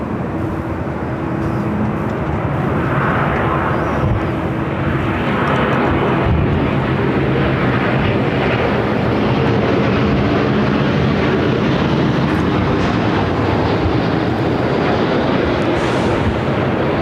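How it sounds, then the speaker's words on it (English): A Boeing 787-8 Dreamliner jet arriving from Tokyo Haneda at LAX gives off a steady, loud engine roar that swells and holds for the whole stretch, with no voices. "The 787-8 Dreamliner coming up from Tokyo Haneda."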